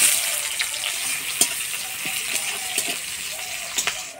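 Black cumin and chopped onion fry in hot oil, a close steady sizzle with light clicks and stirring taps scattered through, no talk.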